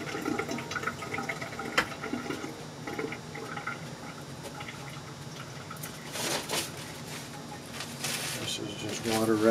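Tap water runs from a sink faucet into a glass, a continuous splashing fill that swells louder toward the end, with a person speaking over it at times.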